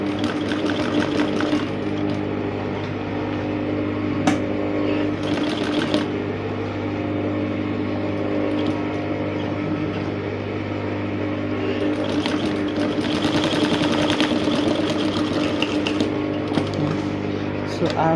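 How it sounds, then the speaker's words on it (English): A sewing machine stitches bust caging into a bustier dress, a steady mechanical hum running throughout with faint fabric handling and small shifts in rhythm as the seam is sewn slowly in short bits. "So you keep sewing in bits, and then you follow the line that you created."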